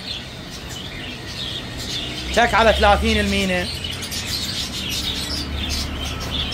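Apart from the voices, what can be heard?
Iraqi bulbuls calling at Baghdad bird market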